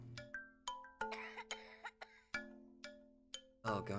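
Coughing from the video game OFF sounds as a string of short, sharp hacks, about a dozen over four seconds. Tones and chimes ring between them, and one louder, rougher burst comes near the end.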